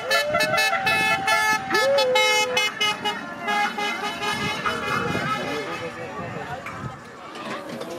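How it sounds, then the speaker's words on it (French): Car horns honk repeatedly at the Tour de France roadside, with several short toots and a longer blast in the first few seconds. Passing vehicles and a busy crowd follow, with voices and clatter underneath. "Attention, il y a des voitures,"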